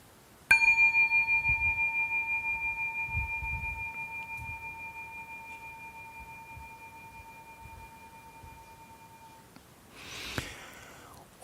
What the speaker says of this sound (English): First listen to this sound of the gong, sound of this singing ball.